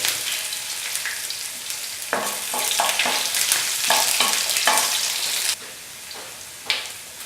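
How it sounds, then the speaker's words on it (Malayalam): Small onions dropped into hot oil with spluttered mustard seeds in a pan, a steady close sizzle broken by stirring scrapes and bursts, easing off toward the end. "ചെറിയ ഉള്ളി അതിന് ഇടുക."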